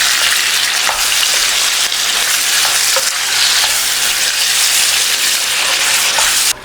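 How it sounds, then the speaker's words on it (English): Beef sears in a hot pan for a Tuscan peposo stew, giving a loud, continuous sizzle and crackle close up, with a few light pops and no voices. "So we're going to give this beef a little color."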